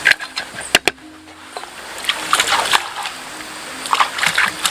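Vegetables being washed by hand in clear mountain water for spicy Bandung-style bala-bala fritters, with close splashing and sloshing that comes in bursts, a few sharp knocks early on, and a steady watery churn after.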